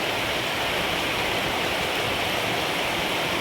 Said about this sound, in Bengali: এই যে এই জলটা এখানে পড়ছে